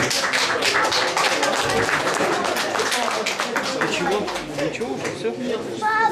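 Loud, sustained applause from a concert audience as a performer comes on stage, dense clapping with crowd chatter and cheering mixed in throughout, steady from start to finish.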